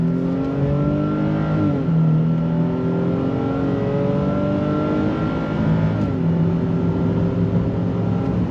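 A 2022 Nissan Frontier pickup truck's engine pulls hard on throttle through a left-hand bend, a loud sustained drone that climbs in pitch, drops at a gear change and rises again, with no talking.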